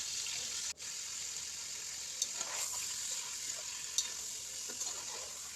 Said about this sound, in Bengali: এরপরে আমি গরুর গোস্তগুলো এক এক করে দিয়ে দিব হালকা এগুলোকে আমি ভেজে নিব